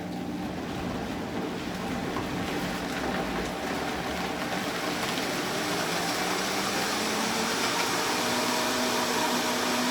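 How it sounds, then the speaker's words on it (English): A Vitamix blender whirs loudly and continuously while blending a green smoothie, a steady close roar with no pause and no voices. "Some Vitamix are different, but you always want to start with the on button and get it to circulating a little bit"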